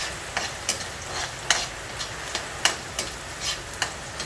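Onions frying in hot cooking oil for pansit, a continuous close sizzle with repeated light spatula scrapes and taps coming every half second or so, fairly loud and without any talk.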